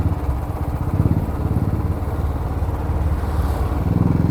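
A Bullet motorcycle with a changed silencer rides along with a scooter, giving a steady low, throbbing engine rumble that holds evenly throughout, close and fairly loud.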